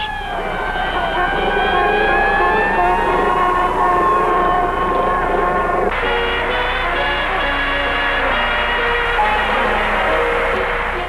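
Police sirens during a 1968 Robert F. Kennedy primary campaign, wailing tones sliding up and down continuously over steady crowd and street noise, loud and close throughout.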